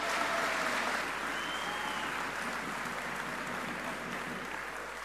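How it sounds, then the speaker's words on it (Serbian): An audience at a Serbian political rally in Sremska Mitrovica applauds as a speaker is introduced: sustained, even clapping from a large crowd that holds steady for several seconds and eases slightly toward the end. "Pozdravimo ga velikim aplauzom"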